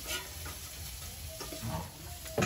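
Snakehead fish, pond-caught and thinly sliced, fry in a wok in a village kitchen, a soft continuous sizzle with faint ticks and stirring scrapes, quiet and close.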